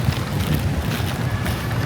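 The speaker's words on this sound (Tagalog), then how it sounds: "Ang lakas ng hangin." Strong gusting wind batters the microphone outdoors, a loud continuous low rumble and buffeting with no pauses, filling the whole stretch without any speech.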